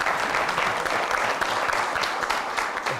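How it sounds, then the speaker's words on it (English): An audience at a Democracy Day journalists' gathering applauds the mayor with steady, dense clapping that holds at an even loudness for the whole stretch, with no voices heard. "A round of applause for Mayor."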